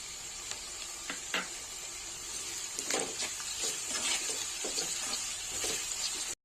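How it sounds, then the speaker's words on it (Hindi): Onions frying in a pan toward golden brown, a steady close sizzle with scattered scraping stir strokes across it and no voice. "प्याज को हमें ज्यादा नहीं भुनना है, बस गोल्डन ब्राउन होने तक ही भुनना है।"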